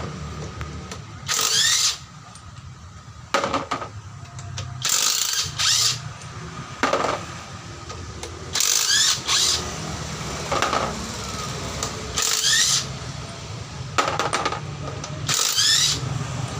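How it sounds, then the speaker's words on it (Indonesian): A 17 mm bolt about 7 cm long is undone on a Hino Ranger truck differential, with loud repeated bursts of ratchet clicking separated by short pauses, close to the microphone. "Saya membuka baut 17 mm dengan panjang kurang lebih sekitar 7 cm."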